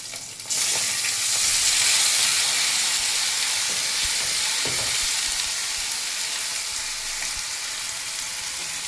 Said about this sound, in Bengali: দুটো পাবদা মাছ ভাজা হচ্ছে বাবার জন্য।